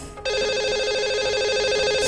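A telephone rings loudly and steadily as a call is placed to a radio show caller, a bright continuous electronic trill starting after a brief quiet moment.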